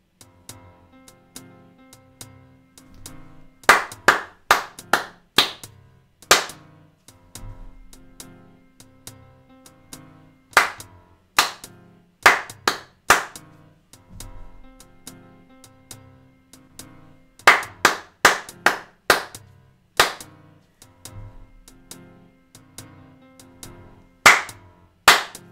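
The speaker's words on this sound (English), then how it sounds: "We'll clap along." Hands clap in short rhythmic groups along with a quiet piano during a beginner music-reading rhythm exercise. The crisp claps come close and loud, separated by near-silent gaps.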